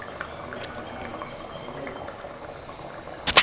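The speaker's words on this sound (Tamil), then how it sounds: "இப்போ குழம்பு நல்லா கொதித்து நல்லா எண்ணெயெல்லாம் பிரிஞ்சு ரெடி ஆகிடுச்சு" Mutton kurma curry simmering in a pot, soft bubbling and popping at a gentle boil, close by, ending in a brief sharp clatter.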